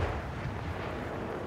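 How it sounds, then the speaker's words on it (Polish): Distant artillery battery explosions rumble continuously in Sniper Elite 5, a steady low booming wash with rain in the background and no distinct individual blasts. "Wybuchy są cały czas, bo ta bateria gdzieś tutaj jest."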